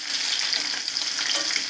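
Peanuts and onions frying in hot oil give a loud, steady sizzle with a dense crackle that holds throughout, close and without any voices.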